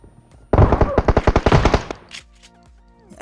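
Rapid shotgun fire in the mobile battle-royale game PUBG Mobile: a loud burst of about a dozen quick sharp blasts in close succession, followed by quieter clicks and game sounds.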